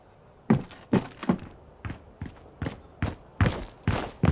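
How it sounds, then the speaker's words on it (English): Heavy leather boot footsteps of the hero Reaper in the video game Overwatch, about a dozen thudding, scuffing steps at an uneven walking pace, close and isolated. "We have the big leather boots from Reaper."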